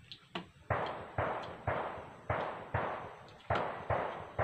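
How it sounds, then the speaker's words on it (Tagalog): Sharp bangs go off one after another, about nine reports at an irregular pace, each ringing out with a decaying tail like distant gunshots. "kaya pakinig yung putok ng baril"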